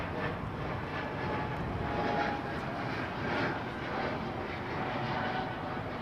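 A KLM airliner climbs out of Heathrow overhead, giving a faint, distant broadband engine rumble that swells gently and then eases.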